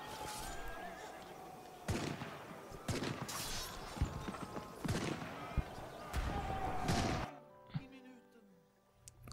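Booming cannon blasts from a Europa Universalis IV video game battle go off repeatedly, about one every second or two, over a dense, noisy battle din that drops away near the end.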